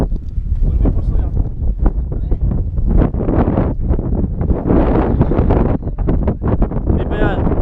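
Strong, loud wind gusts buffeting the microphone at a waterfall in Africa, a constant roaring rumble throughout, with voices partly mixed in.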